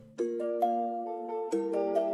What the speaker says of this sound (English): And then it has just the little bell key thing.